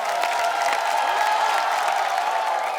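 A studio audience on a comedy show applauds and cheers as actors Vijay Raaz, Kay Kay Menon and Manoj Bajpayee are welcomed, a steady, loud roar of clapping with whoops mixed in and music underneath.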